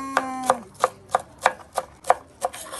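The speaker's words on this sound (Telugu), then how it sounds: "ఎర్రటి టమాటాలు అయితే కోస్తుండు, చూసుకోవచ్చు ఎంత ఎర్ర ఉన్నాయి." A knife chops red tomatoes on a board, about nine crisp, evenly spaced cuts, close and distinct with no voices.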